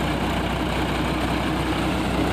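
A 15-year-old Mahindra tractor engine runs steadily nearby, a constant loud low rumble with no breaks.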